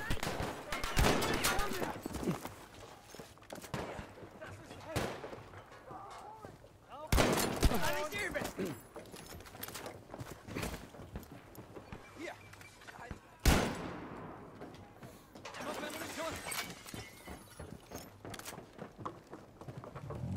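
Sniper and other gunfire in a Battlefield 5 match, with several sharp, loud shots standing out over ongoing battle noise and scattered firing. A player talks throughout.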